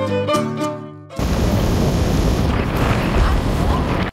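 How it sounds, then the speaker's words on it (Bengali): A speedboat racing across the open sea near Phi Phi Island gives a loud, continuous roar of engine, wind and rushing water, cutting in abruptly after a short stretch of tonal music. "আর সমুদ্র ভেদ করে ছুটে চলেছে আমাদের স্পিড বোট"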